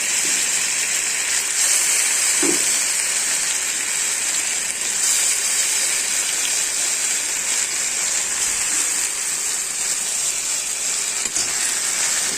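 Tomato, ginger and green chili paste fries in hot oil over a lowered gas flame after cumin seeds, giving a steady, close hiss and sizzle that runs unbroken throughout.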